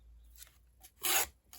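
Packaging card torn by hand to give a rough edge for vintage tags: a few faint rustles, then one short, close, papery rip.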